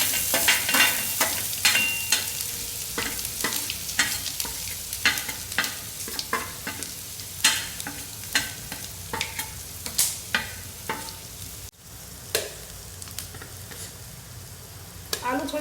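Mustard seeds, bay leaf and spices for a yogurt-potato curry sizzle steadily in hot oil, with a spoon scraping and stirring the pan in repeated close clicks and taps throughout.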